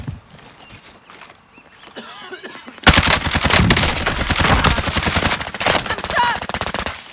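Video game gunfire bursts out loud and close after a quiet start, rapid automatic shots in dense repeated volleys lasting several seconds, with faint game sounds underneath.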